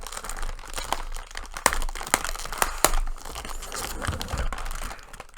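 A Chips Ahoy chocolate chip cookie package is crinkled and torn open up close, with sharp crackling plastic bursts over a steady rustle lasting several seconds.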